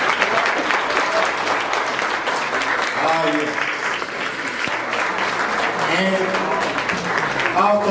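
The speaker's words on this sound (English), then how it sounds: "let's give the Lord a standing ovation" At a couple's wedding, a standing ovation fills the room with sustained, loud clapping that continues steadily throughout, while a voice speaks briefly beneath it.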